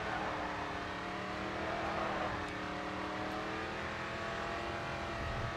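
A race car engine in the video game GRID 2 drones continuously at close range, holding a steady roar with layered tonal harmonics and slight pitch shifts throughout.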